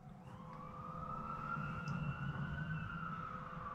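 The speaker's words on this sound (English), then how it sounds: "It's a firehouse about 2 blocks away, so we get a lot of little sirens and whistles around here." Fire engine siren from a firehouse about two blocks away in a busy neighbourhood, a steady wailing tone held over low street rumble, moderately distant and continuous throughout.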